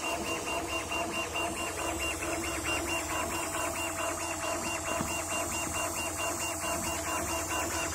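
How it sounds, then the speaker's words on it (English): A 150 W CO2 laser cutting machine engraves, giving a rapid, regular ticking pulse over a constant fan hum, steady and moderately loud, with no voices. "And now start. Okay, the laser machine is start working."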